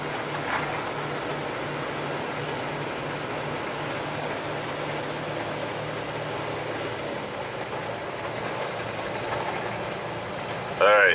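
Truck engine droning under a Jake brake after an automatic downshift to ninth gear, a steady close low roar with road noise, and a voice speaking over it.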